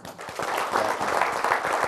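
Brief applause rises from the room at a city mayor and aldermen meeting, a quick patter of hands clapping at moderate loudness for under two seconds.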